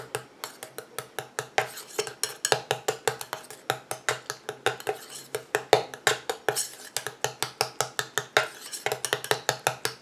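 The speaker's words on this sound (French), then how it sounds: "Je mélange." A utensil stirs anti-cellulite cream with pineapple in a bowl, producing rapid, rhythmic clinking and scraping strokes, steady and close for the whole stretch, with no talking.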